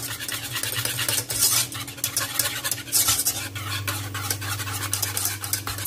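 A spoon scrapes and stirs a thick lasagna filling in a bowl for lavash lasagna, making rhythmic wet close-up strokes over a low steady hum.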